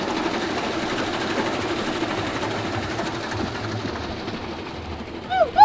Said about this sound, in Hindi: देखो रफ्तार देखो यार, दोनों मोटर्स की कितनी ज्यादा तेज है